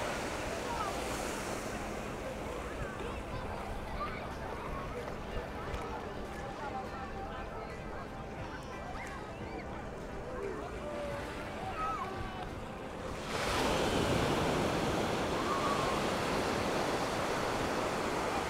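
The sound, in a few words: sea waves on a sandy beach, Nai Harn Beach, Phuket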